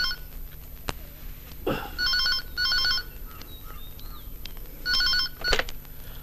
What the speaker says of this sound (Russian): Лавина телефонных звонков во время показа программы.